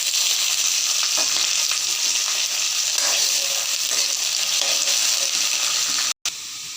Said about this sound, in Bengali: আলুগুলো কেটে রেখেছিলাম ভেজে নেব।